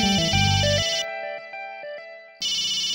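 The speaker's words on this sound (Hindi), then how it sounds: "श्रवू के स्कूल से कोऑर्डिनेटर का फोन है।" A mobile phone rings with a melodic electronic ringtone in an Indian TV drama scene. A loud tune plays, drops to softer chiming notes, then comes back loudly, with no speech over it.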